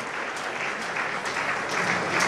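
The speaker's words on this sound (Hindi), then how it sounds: "तालियां हो जाने के लिए जनाब" Steady applause from an audience at an Asian achievements awards ceremony in the Midlands, dense clapping sustained throughout and swelling slightly toward the end, with no voices over it.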